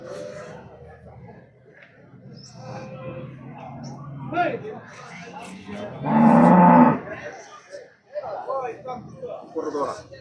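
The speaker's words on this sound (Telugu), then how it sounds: "ఇది హెచ్ఎఫ్ ఆవు." A Holstein Friesian cow moos at a busy cattle market, one loud close low call near the middle, while people talk around it throughout.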